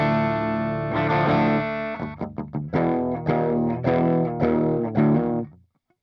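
Electric guitar played through a Laney Lead Top solid-state amp on its clean channel into a 1x12 cabinet: a ringing chord, then a run of picked chords and notes in a steady rhythm, close and full, ending in a quick fade with no voice.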